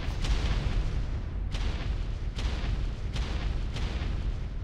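Grenades explode in Call of Duty zombies on the Ascension map: four or five sharp blasts spaced under a second apart, fairly loud over a constant low rumble of game noise.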